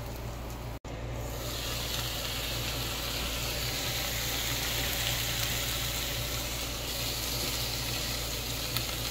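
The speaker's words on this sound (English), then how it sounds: "I'm gonna let that simmer for a little while" A lidded pot of Rotel diet food simmers over a low flame, giving a steady, even sizzle and hiss close by, unbroken and without voices for the whole stretch.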